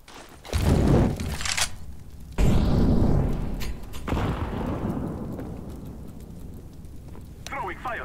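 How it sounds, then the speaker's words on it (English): A flashbang grenade thrown in the game CS:GO, heard as two loud, sharp bursts close by with a lingering roar between them, over constant game noise and a voice talking. "I'm throwing a flashbang."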